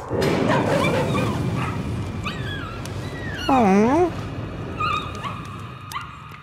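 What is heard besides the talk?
dogs whimpering and barking in video game Layers of Fear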